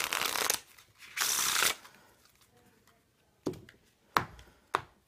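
A Stealth Deck of playing cards is handled and shuffled close up in two long bursts of riffling, then a few sharp taps and snaps of the cards near the end, no voices.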